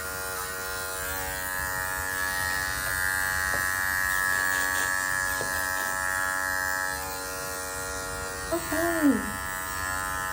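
A 5-in-1 dog clipper fitted with a 9 blade buzzes steadily at close range while trimming between a dog's eyes, then cuts off near the end as a person says a brief word.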